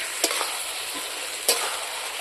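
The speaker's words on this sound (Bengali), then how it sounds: "এখন আমি চিকেনটা এইভাবে নেড়ে নেবো আস্তে আস্তে জল দেবো এইভাবে নেড়ে নেবো" Chicken sizzles steadily in a pot while a spoon stirs it, with a couple of soft knocks of the utensil over the continuous frying hiss.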